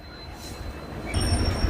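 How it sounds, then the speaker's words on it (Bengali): Amta local train departing Santragachi station, a close rumbling rail sound with wheel squeal that grows louder near the end of the short clip. "সাঁতরাগাড়ি থেকে একটা ট্রেনের আমতা লোকাল ডিপার্চার হয়ে যাচ্ছে"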